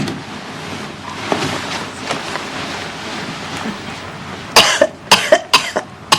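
A person coughing several times in quick succession, sharp bursts close by following a stretch of quieter room background.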